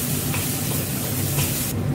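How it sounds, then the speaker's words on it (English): Ginger garlic paste sautés in a pan with golden brown onions, giving a steady dense sizzle and hiss throughout, close up, with no voices. "Now let's add ginger garlic paste and saute for 1 to 2 minutes."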